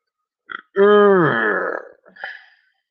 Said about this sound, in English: just in time to catch me burping on stream.